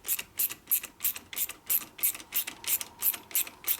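Bolts being tightened on a 1961 Harley Sportster XLCH Ironhead motor during a rebuild: a close, crisp ratcheting that clicks about a dozen times in a steady back-and-forth rhythm.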